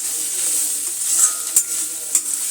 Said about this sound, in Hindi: तो बस ये गाजर भून जाए।